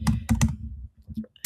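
Keys on a computer keyboard clatter in short bursts while a title is typed, several quick clusters of close clicks with pauses between them and no voices.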